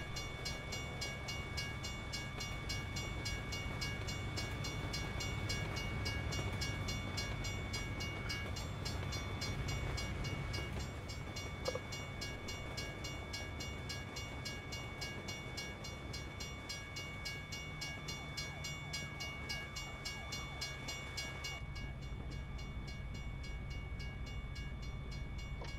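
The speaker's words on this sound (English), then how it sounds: "Watching the train go by." A freight train rolls past in American Truck Simulator, a steady rumble of rail cars with clattering wheels and tonal hum lasting most of the stretch before easing off near the end, with no talking.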